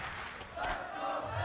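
Crowd at a Call of Duty League esports tournament cheering and shouting in a sustained roar that swells slightly midway, heard alone without commentary.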